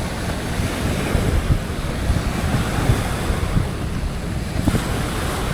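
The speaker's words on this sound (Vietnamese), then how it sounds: "Nghe sóng biển rì rào một lát nha anh em." Sea waves wash and murmur steadily on the shore at Dong Da Park in Quy Nhon city, a continuous broadband roar mixed with wind buffeting the microphone, with no voices.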